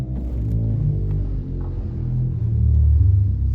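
Deep, rumbling bass notes come from the 16-foot Montre pedal stop of a huge walk-in pipe organ, with facade pipes and the longest pipes in the back of the chamber, held and shifting in pitch, loud and continuous.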